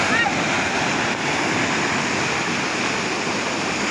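Rough open-sea waves and surf beside a small fishing boat heading offshore, a steady loud wash of water and wind noise throughout with no pauses.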